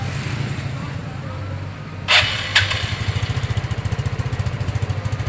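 Yamaha Fino scooter starting after a pulser coil check: a short cranking burst, then the small engine catches and settles into a steady, fast, close idle putter.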